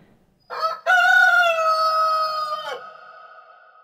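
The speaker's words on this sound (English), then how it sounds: "the rooster crowed." A rooster crows once, loud and close, a drawn-out cock-a-doodle-doo lasting over two seconds against a quiet background, with no talking.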